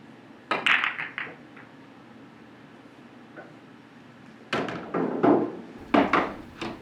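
Billiard balls clack sharply on a pool table during a bank shot on the 1 ball, a cue strike and ball collisions in a short cluster, then a pause and another flurry of hard clicks and knocks close by.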